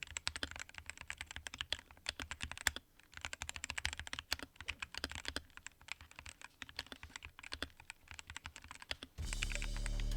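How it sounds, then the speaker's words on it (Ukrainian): Keys of a small wireless mechanical keyboard, modded with red switches, clatter in quick, uneven runs of keystrokes, close up, with a brief pause midway and a louder steady noise at the end. "А ось так з модами."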